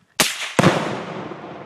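Shot Tannerite exploding targets detonate outdoors: a sharp crack is quickly followed by a second, heavier boom, each leaving a long, fading rumble that echoes off the surroundings.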